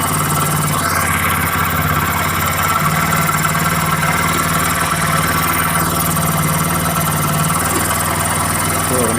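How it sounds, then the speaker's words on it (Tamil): A motorbike engine idles fast and steady close by, a loud continuous drone with a constant throb, as the idle speed is being adjusted. "ஏன்னா இவ்வளோ ஐலிங் இருக்கும்போது வண்டி ஓட்ட முடியாது"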